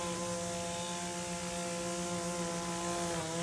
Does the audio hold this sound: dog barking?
no